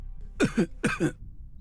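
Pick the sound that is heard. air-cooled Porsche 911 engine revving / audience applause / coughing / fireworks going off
coughing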